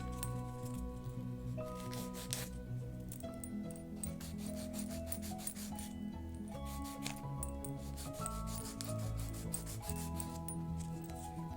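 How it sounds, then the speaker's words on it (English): A file rasps over gel full-cover nails in soft, repeated strokes, faint and close, over a steady background tone. "You're lining it up and you're filing. Going along your edges."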